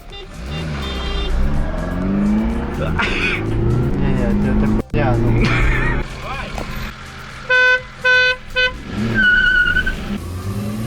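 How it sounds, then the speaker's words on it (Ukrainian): A BMW E30 races a Renault Clio, engines revving hard and rising through gears with a brief tire squeal, while people talk and a car horn beeps in several short bursts near the end. "Зараз буде гонка Є30 проти Кліо."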